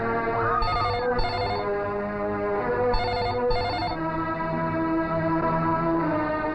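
A mobile phone rings in a Hindi movie scene with loud, repeated electronic ringtone bursts in two quick pairs, set over a steady musical drone.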